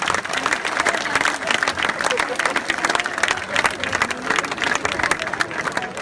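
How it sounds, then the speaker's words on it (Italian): An audience at a live cabaret show in Cinisi breaks into lively applause, sharp rhythmic clapping from many hands with some cheering and voices mixed in throughout. "ma fate questa applauso"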